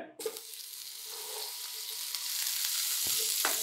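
A spoonful of butter hits a pan over low heat and settles into a broad, steady sizzle that grows a little fuller, with a couple of brief scrapes near the end.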